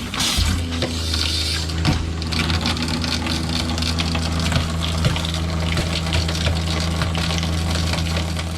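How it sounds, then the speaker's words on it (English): An RV's water pump drones steadily while water runs from the trailer faucets during de-winterizing, a constant close, even rush with a low mechanical hum beneath it and no talk. "now, once we got the pump on, we're going to come to our taps and turn them on"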